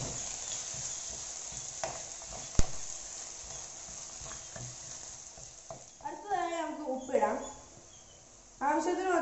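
Garlic, chili and spices stirred in a frying pan, giving a soft, steady sizzle with scattered scraping clicks, then quieter near the end while someone speaks over it.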